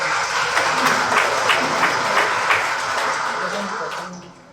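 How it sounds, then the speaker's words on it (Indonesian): Audience applause at a civil-servant (P3K) inauguration ceremony in Banjarmasin, a dense steady clapping from a large crowd that holds for about four seconds before tapering off. "Tepuk tangan dulu."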